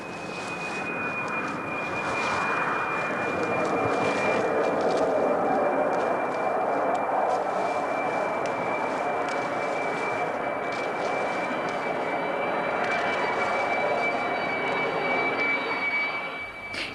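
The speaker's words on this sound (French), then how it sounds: "Et un avion à 100 mètres de nous? Plus ou moins 130 décibels." A jet airplane flies past about 100 metres away, a loud, sustained roar with a steady high whine that holds for the whole stretch, close and unbroken.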